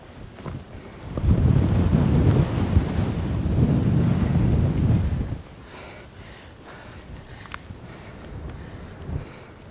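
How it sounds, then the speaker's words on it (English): Strong gusts buffet the microphone on an exposed hilltop, a loud low roar from about one to five seconds that then drops to a softer, steady blustery rumble. "Bloody windy."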